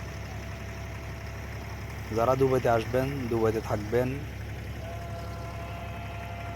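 A boat engine runs at a steady low idle on a Dubai Creek crossing between Deira and Bur Dubai, its constant drone continuing under a voice in the middle of the stretch.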